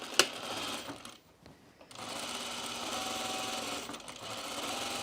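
A sewing machine stitches a 5/8 inch seam on a 1930s-style blouse, running in a steady close-up whir with a brief pause and a click near the start, then resuming continuously.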